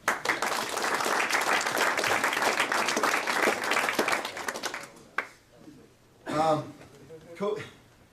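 Audience applause for a college wrestling team at a conference championship celebration, a loud sustained burst of many hands clapping for about five seconds before cutting off, followed by quieter talk.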